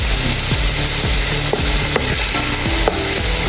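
Bopis, a pork lung stew, being stirred in a pan, with a steady sizzle and frying crackle throughout and a utensil scraping the pan bottom in repeated strokes, close up and loud.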